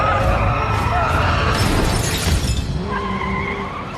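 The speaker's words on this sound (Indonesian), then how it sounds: "mobil Simon menabrak truk itu dan tewas" In an action film scene, a car slams into a truck with a loud crunch and shattering, preceded by a skid and engine noise, while a voice narrates over the impact.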